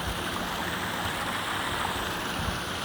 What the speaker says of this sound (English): This is the only working fountain that I've seen